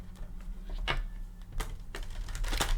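Tarot cards are shuffled by hand, giving short papery riffles and soft slaps that come in irregular bursts, close to the listener and with no talking.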